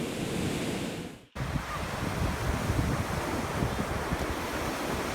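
Ocean surf rolls onto a beach during a walk, a steady broad wash of waves mixed with wind buffeting the microphone, briefly cut out near the start before resuming.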